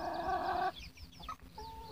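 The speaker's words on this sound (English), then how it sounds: "Look at the rooster." Three-week-old Meat King chicks and a rooster clucking close by: a loud burst of calling at first, then softer scattered peeps and clucks.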